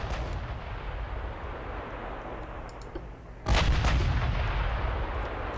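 Heavy battleship guns fire in the naval game Ultimate Admiral Dreadnoughts, a single loud booming salvo midway after a low steady rumble, then a long rolling decay.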